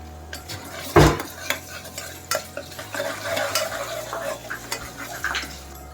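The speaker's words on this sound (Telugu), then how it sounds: "కొద్దిగా అల్లం వెల్లుల్లి పేస్ట్ వేసి వేయించుకుందాం" Onions with ginger garlic paste frying and being stirred in a pan for aloo kurma, with scraping spoon strokes, one sharp clank near the start and a steady low sizzle underneath, close and moderately loud.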